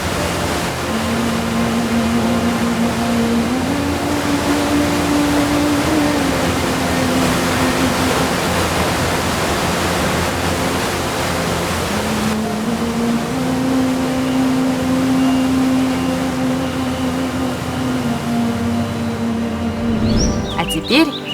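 Waterfall in Turgen gorge, Kazakhstan, roars as a steady, loud broadband rush of falling water that fills the whole stretch, with a faint low tone running beneath and a brief handling bump near the end.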